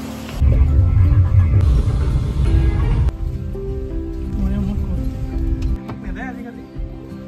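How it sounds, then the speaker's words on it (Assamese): Heavy rain falls in a steady, dense roar close by, loud and continuous, with a muffled low rumble under it and no clear talk. "বহুত জোৰকে বৰষুণ এজাক আহিছে"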